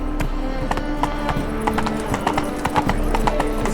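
Roach, the horse in The Witcher 3, trots with a quick, regular clip-clop of hooves, close and loud over a low steady ambient hum.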